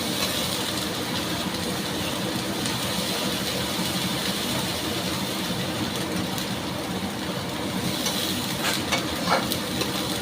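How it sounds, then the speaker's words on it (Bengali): Ginger paste frying in oil in a pan, a steady, dense sizzle that holds evenly through the whole clip with faint stirring scrapes near the end. "আর দিয়ে দিলাম আদা বাটা, প্রায় 1 চামচের কাছে। ভালো করে কষিয়ে নেব।"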